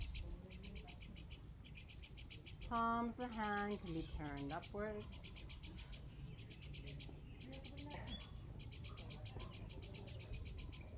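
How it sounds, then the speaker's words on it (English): Birds sing in a local park, with repeated high chirps and warbled calls running steadily through the background while a calm voice speaks over them. "And hear the birds singing."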